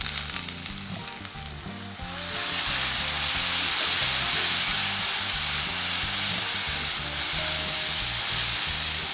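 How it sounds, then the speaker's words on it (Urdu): A mix of chili and other spices in hot oil, splashed with water, sizzles and crackles loudly and steadily, with the hiss swelling after a couple of seconds and staying strong to the end. "اس کو میں پانی کا چھینٹا لگا رہی ہوں اب۔"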